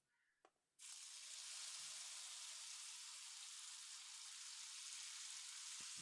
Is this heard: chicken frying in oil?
yes